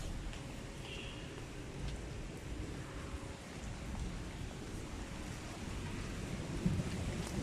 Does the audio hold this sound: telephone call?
no